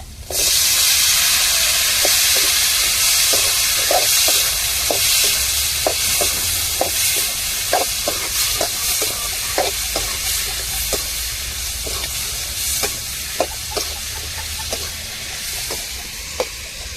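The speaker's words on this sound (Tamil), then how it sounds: "மிளகாய் தக்காளி சின்ன வெங்காயம் தாங்க இதில் அப்படியே சேர்த்து விட்டுருவோம் தாளித்ததில்" Chilli, tomato and shallots frying in hot tempering oil, giving a loud, steady sizzle throughout with frequent sharp pops and spatters, and no talking.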